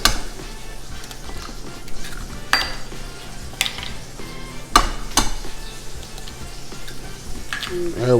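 Milk, melted butter and eggs are whisked together in a bowl, with repeated utensil clinks and scrapes against the bowl, close and fairly loud, over a low background hiss.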